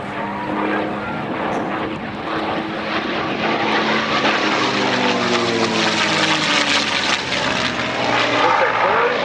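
A Mustang propeller fighter plane flies past at an airshow, its engine roaring loud and steady with a shifting pitch as it passes, while an announcer talks over it.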